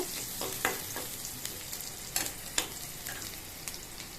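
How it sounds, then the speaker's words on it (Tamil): Chopped onions fry in oil in a pan for suvarotti sukka, a steady sizzle broken by sharp clicks and scrapes of a spoon stirring, fairly quiet and close with no voices. "ஆனியன் ஆட் பண்ணியிருக்கேன் நல்லா ஃப்ரை பண்ணிக்கோங்க"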